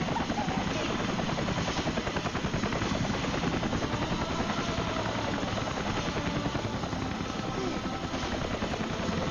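Helicopter rotor noise from a movie scene plays loudly and continuously, a dense throbbing chop with engine drone that holds steady throughout without a break.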